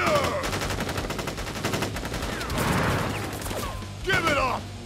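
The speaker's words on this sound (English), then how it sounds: "Ready, aim, fire!" Troops fire a volley in Crisis Core Final Fantasy VII Reunion: dense, rapid automatic gunfire rattles continuously at close range, swelling with extra bursts and impacts near the end.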